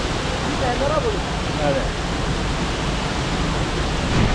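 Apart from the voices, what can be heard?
waterfall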